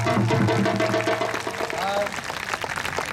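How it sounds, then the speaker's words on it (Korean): An outdoor crowd at a Namsadang folk performance at the Jongno Hanbok Festival in Gwanghwamun Square claps. The applause builds under and after a voice speaking loudly close by. "박수 합니다"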